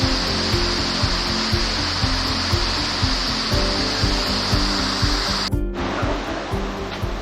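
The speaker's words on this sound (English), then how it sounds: "See our little cascade." Small waterfall cascade on a forest trail in Big South Fork's Honey Creek area, a steady close rushing of falling water with a faint rhythmic thumping underneath, briefly cut by a short gap near the end.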